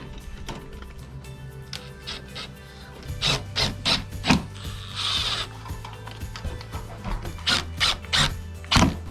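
Screws being driven through a board into a chicken coop window frame, with repeated ratcheting, clicking bursts of a drill or driver in a steady rhythm, close and fairly loud, with a brief rasping rub in the middle.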